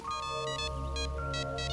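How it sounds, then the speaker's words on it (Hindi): An electronic phone ringtone plays in repeated bursts of bright, chiming tones over a steady musical drone, loud and close with no talking. "जरा फोन आ रहा है।"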